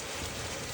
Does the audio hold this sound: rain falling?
yes